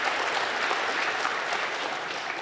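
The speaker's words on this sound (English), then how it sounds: "one more round of applause for all of our speakers" Steady applause from a conference audience at a technology summit, dense continuous clapping that stays loud and even throughout with no voices over it.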